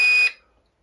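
A Volantex P-51D RC plane's motor controller gives a single short, clear electronic beep when the throttle is armed. The tone lasts about a quarter second, then cuts off into near silence.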